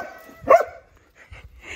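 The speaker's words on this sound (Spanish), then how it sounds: "Ey, no le ladres a mi perra" A dog gives a single close, sharp bark in the middle, then some quieter shuffling and faint yips around it, with no talking.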